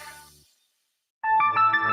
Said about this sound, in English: Hamilton Business Technologies can help ensure your phone rings wherever you are.